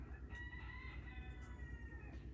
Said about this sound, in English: I guess the roosters are all calling their buddies